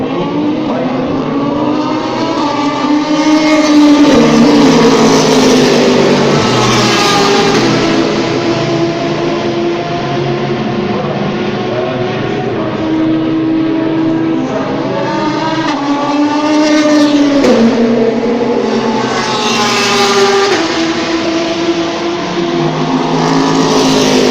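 Race cars on the Le Mans 24 Hours test day circuit, including a blue Ferrari, loud engines roaring and passing in overlapping waves with rising and falling pitch, sustained and close throughout.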